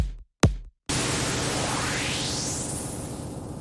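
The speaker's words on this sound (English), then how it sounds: "Next up we have this white sweeper, this white noise sweeper." A white noise sweep swells in after a couple of short bursts, its hiss rising steadily in pitch, alone and bathed in reverb.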